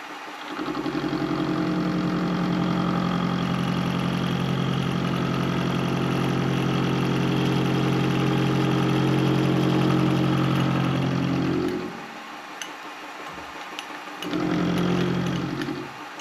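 A mid-pitched engine idles steadily at about 660 RPM with a constant close drone, drops away briefly near the end, then returns.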